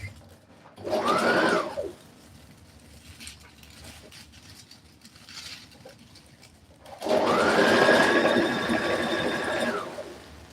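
Sewing machine stitching a narrow channel for thin boning on a bubu dress, two separate runs of steady motor whir, the second longer and louder, with quiet pauses between.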